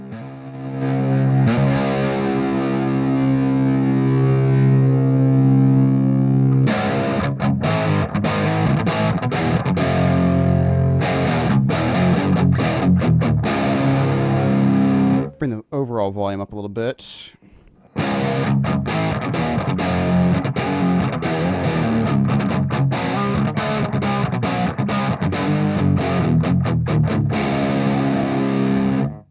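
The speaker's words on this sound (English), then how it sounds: "They are getting much more of the master volume kind of distortion instead of just the Soldano-ish preamp end of the world kind of sound." Electric guitar played through a Ceriatone AH50 amplifier with master volume and gain near 6, giving saturated master-volume distortion; loud sustained chords and riffs with a brief pause midway, a voice speaking briefly at the start.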